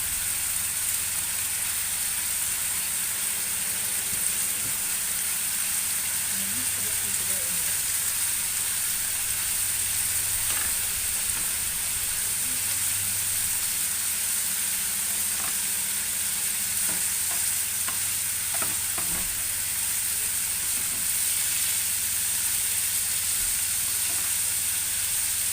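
Peppers frying on a hot shawarma grill give off a steady, even sizzle with faint stirring clatter and scraping throughout, moderately close and without talk.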